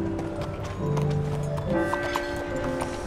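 Hooves of a horse in Red Dead Redemption 2 clop steadily at close range, a running rhythm mixed with game ambience and faint musical tones.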